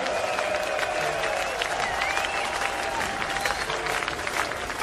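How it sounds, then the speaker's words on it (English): A concert audience cheers and applauds in a dense, continuous roar of clapping and shouting that fills the whole stretch at a steady, loud level. "Give yourselves a cheer."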